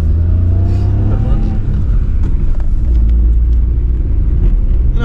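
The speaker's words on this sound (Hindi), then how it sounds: "इधर बर्फ है। गाड़ी चढ़ेगी क्या? हाँ थोड़ा बहुत तो स्लिप हो रही है।" A car engine labors and revs loudly as the vehicle climbs a snowy mountain road near Bandipora, with a continuous heavy rumble and voices talking beneath it.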